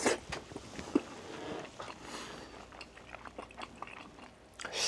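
Someone chews a mouthful of homemade lasagna close to the microphone, the soft wet bites and mashing coming through quietly with no talking.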